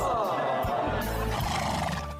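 A horse whinnies loudly and close for about two seconds, a long wavering neigh with a rough, roaring edge that fills the whole clip.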